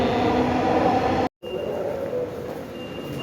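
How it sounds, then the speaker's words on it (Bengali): A Dhaka metro rail train pulling away from a station, a loud steady rumble and rolling hum with a brief dropout, then continuing rolling noise and a faint high squeal. "ট্রেন চলে যাচ্ছে।"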